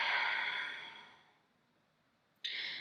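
A long, breathy exhale from a yoga instructor during a vinyasa hip-opening session, loud at first and tapering into near silence, followed by the sharp onset of a fresh breath.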